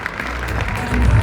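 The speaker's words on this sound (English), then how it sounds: "one more big round of applause for our incredible carrier and family member honorees tonight" Crowd applause at a teen awards ceremony honoring carrier and family member honorees, a dense wash of clapping that swells louder toward the end, with a voice faintly underneath.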